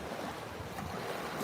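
Gulf of Mexico surf washes onto a packed sandy beach at sunset as a steady, continuous roar, with wind buffeting the microphone and no voices.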